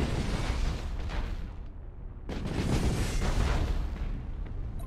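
Bombs burst during a space battle in the Battlefleet Gothic Armada game, a series of heavy booming explosions with rumbling tails, a brief lull, then another loud blast rolling on, close and dense.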